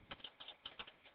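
Quick, light clicks of keys on a computer keyboard as a web address is entered, about eight soft taps in an uneven rhythm, close but very faint.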